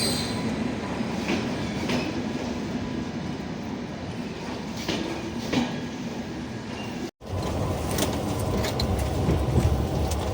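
Train at the Bolpur railway station platform: a steady rumble and rolling clatter of rail cars, with soft clicks and faint squeals, a brief dropout partway through, and no talking.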